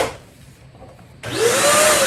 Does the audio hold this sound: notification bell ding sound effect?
no